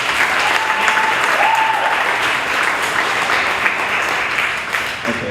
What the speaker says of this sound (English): let's give those people another round of applause.